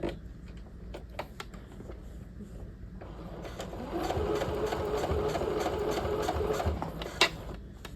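A sewing machine stitches across a half-scale jacket's double welt pocket, first with quiet scattered ticks, then a steadier, louder run of rapid mechanical stitching before slowing again.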